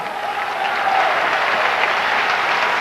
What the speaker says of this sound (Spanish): Denle un aplauso, papá.